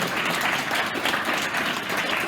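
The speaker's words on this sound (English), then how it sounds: "If you want to clap," An audience at an NFL Academy Q&A session at a college claps in a steady wash of applause from many hands. The sound is moderately loud and continuous throughout, with no voices over it.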